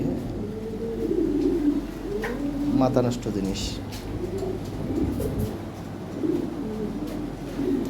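Lahori Sirazi pigeons coo at a pigeon sale, several throaty rolling calls recurring close by while someone talks over them.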